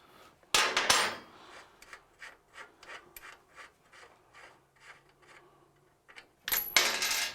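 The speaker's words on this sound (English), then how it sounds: "I'm using a 24mm spanner. I'll crack off the 2 half nuts." A 24mm spanner works the two half nuts loose on a Lambretta scooter, giving a string of short metallic scrapes and ratchety rasps, framed by louder clanking bursts at the start and end, close up with no talking.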